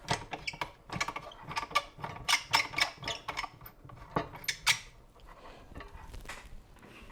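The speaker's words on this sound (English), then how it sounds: "Loosen this bracket, flip it forward 90 degrees." Adjusting and flipping the bracket on a LaserPecker 4 laser engraver set up for tumblers produces a run of close, sharp mechanical clicks and ratcheting rattles. The sounds come in irregular bursts, then fade to quiet handling.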